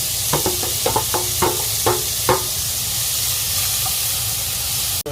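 Onions and garlic sizzle in a hot pan for chilli con carne, a steady frying hiss with several short stirring scrapes early on and a sharp knock near the end.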